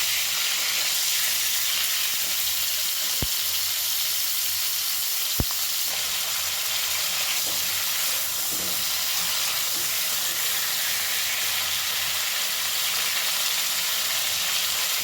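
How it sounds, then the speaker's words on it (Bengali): Cauliflower florets fry in hot oil in a steady, bright sizzle that keeps going for the whole stretch. Two sharp clicks stand out, with no talk. "ফুলকপিগুলো লাল করে ভাজা হয়ে গেছে"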